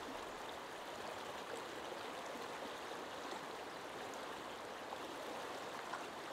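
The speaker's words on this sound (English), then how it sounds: "Water's just kind of softly floating through." Soft, steady rush of stream water flowing gently past in a fishing video game, a constant even wash with no voices.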